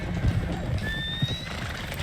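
A stallion in Red Dead Redemption 2 whinnies amid steady clip-clop of hooves and a constant low rumble, with brief tonal game sounds overhead.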